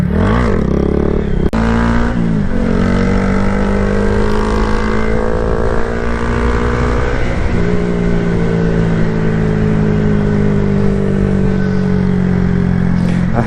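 A 2022 Honda Grom motorcycle accelerates hard under throttle, its small engine loud and close with a steady droning pitch that climbs, dips at a gear change, then rises again.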